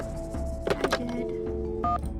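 Telephone keypad tones from dialing a number in a Nancy Drew mystery video game, a few short beeps in a quick cluster over a soft game background, with no talking.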